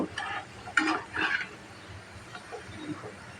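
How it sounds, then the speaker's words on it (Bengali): A batch of gaja, a sweet fried snack, crackles in hot oil as a utensil stirs and lifts it in a few short, close bursts over a low sizzle. "তাহলে তোমরা দেখো আমি ভাজি দেখো বন্ধুরা গজাটা আমার ভাজা হয়ে গেছে"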